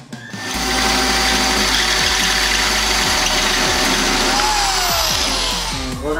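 A powered tube bending machine works on a carbon fiber tube, giving a loud, steady motor whine with repeated low mechanical thumps and a rising pitch sweep, with no voices.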